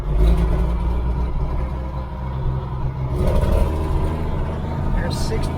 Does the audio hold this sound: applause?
no